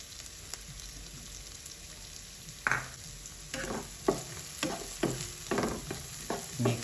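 Onion frying in a pan for a pork, radish and shrimp dish, with a steady soft sizzle and a series of distinct scraping stirs from about the third second onward. The stirs are close and come at irregular intervals, with no talking.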